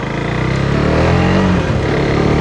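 A Husqvarna Svartpilen 401 single-cylinder motorcycle engine drones loud and close as the bike pulls onto the road, a steady throbbing hum with a slight rise in pitch.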